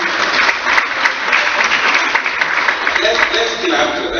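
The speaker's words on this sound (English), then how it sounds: "Let's clap to that." Steady audience applause fills a live summit hall, dense and continuous throughout with no voices over it.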